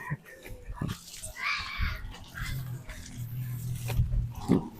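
A pig grunts and snorts in low, irregular bursts close by, with short squeals and scuffling noises in between, under a lively rural background.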